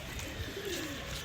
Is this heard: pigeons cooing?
yes